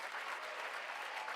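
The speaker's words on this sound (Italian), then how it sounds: "facciamo un applauso a TikTok" A short burst of steady clapping, faint and somewhat distant, rises from a group during a casual Italian-language livestream, with no voice over it.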